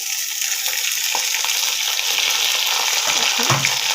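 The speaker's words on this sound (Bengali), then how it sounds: "চালগুলো 10 মিনিট ভেজে নেব।" Rice frying with onions in a pan for pulao gives a steady, bright sizzle, with occasional stirring scrapes and soft clinks near the end; no one speaks.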